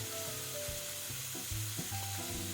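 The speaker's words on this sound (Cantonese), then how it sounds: "跟住咧準備煎呢個脆肉丸" Crispy grass carp fish balls frying in a pan, a close, steady sizzle of hot oil with a few stirring scrapes, no voices.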